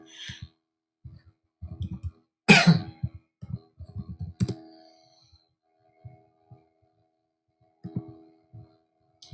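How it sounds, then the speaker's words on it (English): A single sharp cough lands directly into a close microphone, loud and abrupt amid quiet room sounds, surrounded by scattered clicks and light tapping like keyboard or mouse use. "Sorry for coughing directly into the mic."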